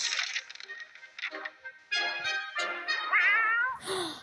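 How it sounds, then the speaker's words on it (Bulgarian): A cartoon cat in the survival video game 60 Seconds meows several times, drawn-out and wavering, loud and close, after some crackling game effects, with no talk over it. "Ето го котарака."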